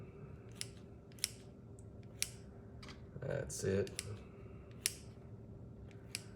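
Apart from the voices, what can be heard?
scissors cutting up breakfast casserole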